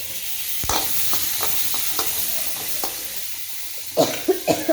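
Tomatoes fry in oil in a pan with a continuous soft sizzle, broken by occasional stirring scrapes and a few louder clacks near the end.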